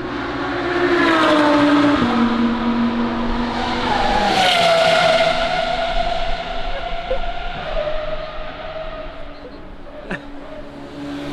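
Pagani race cars at the Nürburgring rev and accelerate loudly, engines rising and falling in pitch as they pass with tire squeal and skidding, a close, intense roar that fades gradually.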